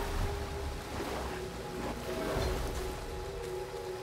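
A steady, soft rushing of falling water from a waterfall in the video game Star Wars Jedi: Fallen Order, an even splashing wash with no speech.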